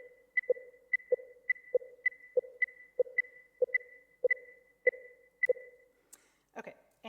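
Two interleaved streams of short synthetic tone pips, one lower and one higher, pulse at slightly different regular rhythms in an auditory attention experiment, clean and isolated against silence, ending with a few brief clicks.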